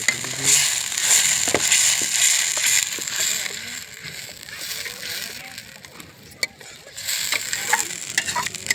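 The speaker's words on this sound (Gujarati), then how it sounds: "તો ગાઈસ, હવે ટોમેટાની ગ્રેવી અંદર નાખી દઈએ આપણે. તો આપણે ગ્રેવી અંદર નાખી દીધી." Tomato gravy slops into a hot pan and is stirred, giving a loud, continuous sizzle with wet sloshing and scraping, and a voice talks over parts of it.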